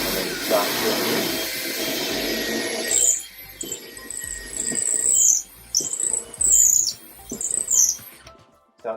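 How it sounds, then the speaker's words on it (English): A power drill bores into the end of a handrail held in a drilling jig: a loud continuous whirring burst at first, then several shorter on-off drilling bursts with gaps between them. "then you just hold the components together, and then you start drilling in."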